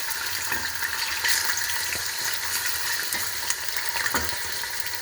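Onion and greens sizzle steadily in hot oil in a pan, a close, continuous frying crackle with occasional soft pops and no talking.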